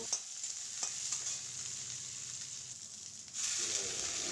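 Brinjal and pui shak with onion and garlic fry in a pan with a soft, steady sizzle and a few light stirring taps, close and quiet, the hiss swelling louder near the end.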